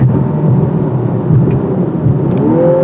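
A 2024 Lexus LC 500h hybrid's engine drones loudly with a steady, rising exhaust note, partly piped through the speakers, as the car accelerates, heard from inside the cabin.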